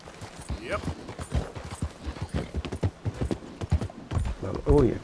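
Horse hooves clip-clop in a steady, busy rhythm in the Red Dead Redemption 2 video game, close and fairly loud, with a short whinny and a voice talking over them.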